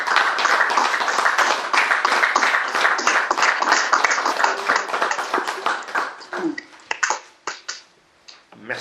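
A church congregation applauding during a service, dense rhythmic clapping filling the room, loud and sustained before thinning out to scattered claps and fading near the end.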